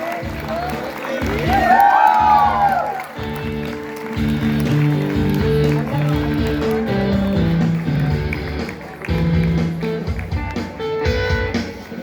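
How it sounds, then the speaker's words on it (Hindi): A crowd at an Independence Day celebration event applauds to welcome performers onto the stage, with steady massed clapping and cheers under background music while a host's voice carries over it. "एक बार बहुत जोरदार तालियों से स्वागत करें"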